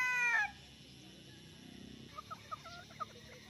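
A Kearney Whitehackle gamefowl hen gives a short burst of calling at the start, then soft, faint clucks come one after another at close range.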